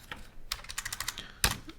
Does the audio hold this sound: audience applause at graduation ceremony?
no